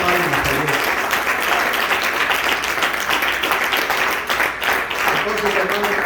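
Sustained, loud clapping from a church congregation during a sermon, a steady broadband wash of hands with a brief dip near the end before it swells again.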